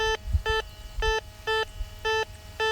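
A metal detector, an MX Sport, beeps steadily about twice a second, a bright two-tone pulse over low rustling and handling noise outdoors at an 1860s house site.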